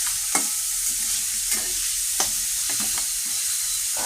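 Cashews and raisins frying in a pan for vermicelli upma, a continuous bright sizzle with a few quick spatula taps and scrapes spread through, close and without talk.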